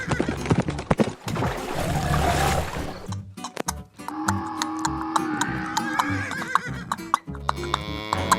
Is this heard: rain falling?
no